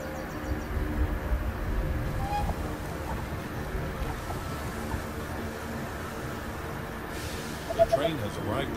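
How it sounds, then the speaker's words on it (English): A train pulling into a station in the strategy game They Are Billions, a low, steady rumble that holds throughout with a brief, faint rise near the end. "train has arrived at the station"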